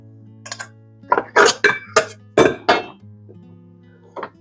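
A KitchenAid stand mixer's paddle knocks against the metal bowl in a run of bright, sharp clinks, about eight close taps spread unevenly over a few seconds against a steady low motor hum.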